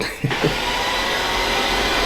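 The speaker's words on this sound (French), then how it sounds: "il y a l'aspirateur qui se met en route" A household vacuum cleaner switches on with a brief thump and settles into a loud, steady roaring whine that fills the room without pause.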